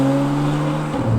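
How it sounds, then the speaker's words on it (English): Porsche 991 Carrera engine and exhaust idling with a steady low drone and strong harmonic tones, the pitch dropping slightly near the end, heard close and alone. "The sound of the car is so good"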